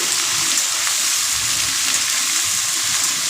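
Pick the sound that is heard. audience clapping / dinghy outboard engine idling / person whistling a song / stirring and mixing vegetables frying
stirring and mixing vegetables frying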